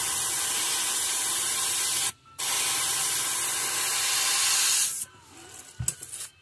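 An airbrush sprays paint on a ghost rainbow trout fishing lure, a loud steady hiss broken by a short gap, then ending in sputtering bursts and a few sharp bumps.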